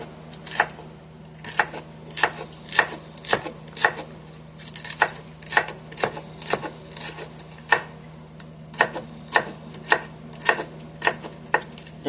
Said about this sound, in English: I'm going to chop it down real fine.